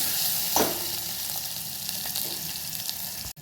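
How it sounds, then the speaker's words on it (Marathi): Garlic, chili pieces and curry leaves frying in hot oil in a pan, a steady close sizzle with a brief louder crackle early on and no talking. "लसूण आणि जरा हे 2 मिनिटं तरी परतायचं आहे। लसूण थोडासा लाल होऊ द्यायचा आहे।"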